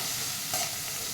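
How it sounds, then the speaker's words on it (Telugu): Vegetable fried rice being stirred in a pan with a little turmeric, a steady soft sizzle and scraping throughout with one slightly louder stir midway, fairly close and with no voices. "బాగా మిక్స్ చేస్తున్నామండి."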